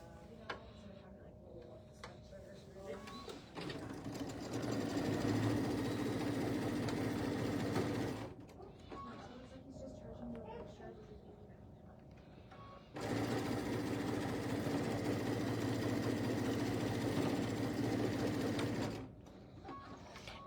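A sewing machine stitches a quilt block seam in two steady runs of rapid mechanical whirring, separated by a quieter pause, with faint background sounds between.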